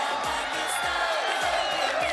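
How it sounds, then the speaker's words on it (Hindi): A dense, steady roar of a large open-air political rally crowd in Multan, Pakistan, clapping and cheering at an Imran Khan jalsa, with faint rhythmic low thumps under the continuous din. "हाथ उठा के तालियों की गूंज पे बताइए कितना प्यार करते हैं इमरान खान से आप"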